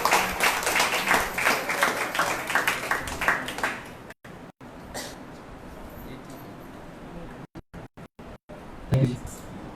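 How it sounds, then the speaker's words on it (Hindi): A church congregation at a Sunday service claps for a welcomed speaker: about four seconds of dense, loud applause that then thins out, with a voice talking over it and a brief burst of noise near the end. "आइए जोरदार तालियों के साथ उनका स्वागत कीजिए"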